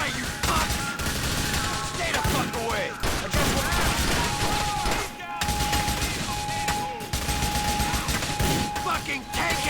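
Heavy gunfire in GTA: The Lost and Damned: loud, dense bursts of shots firing almost nonstop for several seconds, with short gaps between volleys.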